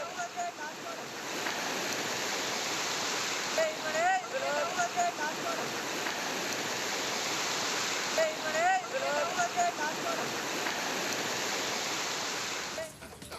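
A swollen river in flood during heavy Karnataka monsoon rain rushes past with a constant broad roar. A few faint higher chirps rise above the steady torrent.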